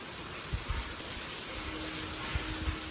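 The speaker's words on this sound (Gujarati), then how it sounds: "ફૂલ વરસાદ ચાલુ થઈ ગયો આજે પાછો" Heavy rain pours down steadily at night in a village, a dense continuous hiss with occasional louder drops and splashes hitting nearby surfaces.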